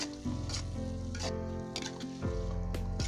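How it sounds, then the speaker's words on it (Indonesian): Scallions and carrots frying in oil in a pan for a pastel filling, a steady close sizzle with intermittent stirring scrapes and soft clinks. "Kemudian kita masukkan daun bawangnya. Ini kita tumis sampai matang."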